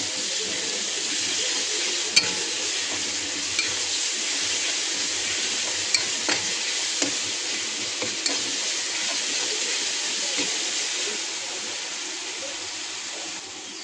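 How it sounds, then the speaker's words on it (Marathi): Onions with paste steadily frying in a pan for palak paneer, a constant bright sizzle with occasional light clicks of a spoon stirring, close and without talk. "आता आपल्या कांद्याबरोबर हे चांगलं फ्राय करू।"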